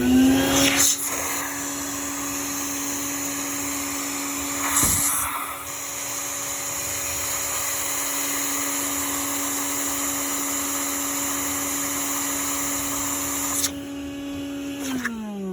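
Compressed air blown into the clogged drain of a car's panoramic sunroof makes a steady, loud hiss with a faint whine. It runs almost unbroken for about fourteen seconds, briefly surging near five seconds, then cuts off near the end.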